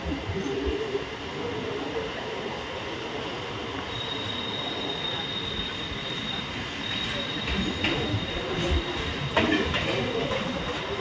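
A train rolls through the old Raniganj railway station on Indian Railways, its wheels keeping up a continuous rumble with faint squeals and rail clatter throughout, close and fairly loud.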